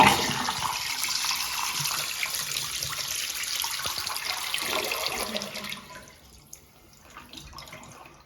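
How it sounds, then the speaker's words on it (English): A blowout-style toilet flushes with a strong rush of water for several seconds, then drops abruptly to a quiet trickle and refill, with no gurgle and no voices. "And we're gonna go for a flush."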